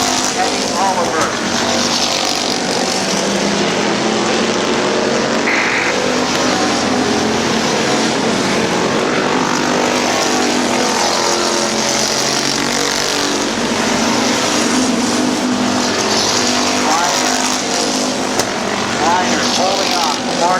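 Race cars roaring around the Midvale Speedway oval during a close multi-car battle, a loud continuous engine drone that swells and fades as the pack passes, with an announcer talking over it throughout.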